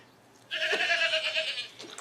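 A goat in a TV drama scene gives one loud, wavering bleat lasting about a second, close and clear over a quiet background, followed by a softer trailing bleat.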